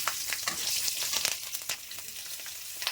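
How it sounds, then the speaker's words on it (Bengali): Green chillies tempering in hot oil in a wok crackle and sizzle up close, with sharp popping bursts over a steady frying hiss and no talk. "কড়াইতে কাঁচা লঙ্কা ফোড়ন দিয়ে দিলাম।"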